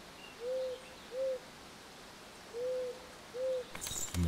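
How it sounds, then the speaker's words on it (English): An owl in Eastshade gives four clear, mellow hoots in two pairs over a faint hiss of night insects, and a brief rustle follows at the end. "An actual owl."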